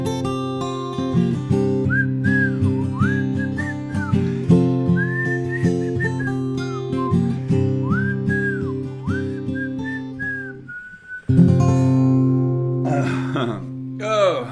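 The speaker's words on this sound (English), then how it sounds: "as I started whistling, I realized, now I know" Someone whistles a lilting tune in clear, sliding notes over steady instrumental accompaniment, ending with a brief flourish.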